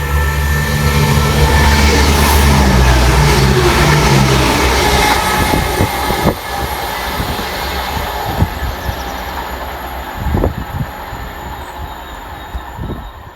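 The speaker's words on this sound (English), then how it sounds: "Up next for Chiltern, 1 Romeo 17 from London Marylebone through to Birmingham Moor Street, and it's 168002." Chiltern class 168 diesel passenger unit 168002 passing through Olton station, a loud close rumble with engine drone that fades into rhythmic wheel clicks and squeals over the rail joints as it runs through.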